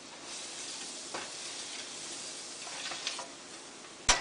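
Flour and butter sizzle softly in a pan while being stirred into a cream sauce base, a quiet steady frying hiss with occasional scrapes and a sharp click of a utensil at the end.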